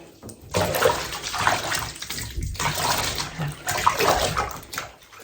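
Running water rinsing a cat during a bath, splashing and pouring close by in uneven bursts with brief pauses; a faint animal whimper shows up in places, and no one speaks.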